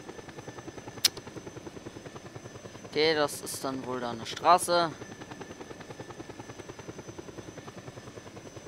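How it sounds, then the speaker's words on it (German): A helicopter in Just Cause 2 keeps up a steady rhythmic rotor chop throughout, moderately loud, while someone talks briefly over it in the middle. "Ich glaube, den Heli, den brauchen wir noch."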